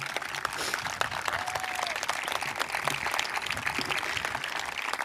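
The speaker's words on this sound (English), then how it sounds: "you can clap for them" A crowd at a high school graduation ceremony claps for the graduating class, a continuous, fairly distant wash of many hands with a few sharper claps standing out, with no voices over it.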